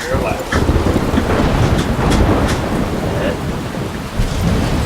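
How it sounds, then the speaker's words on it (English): A loud storm rages in Life Is Strange, heavy rain and wind roaring continuously with rumbling thunder cracks, dense and close throughout, with a voice partly audible beneath it. "More storm."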